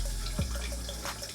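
Water runs continuously from a tap during the washing of semi-freeform dreads. The flow is steady and close, with a few soft splashes.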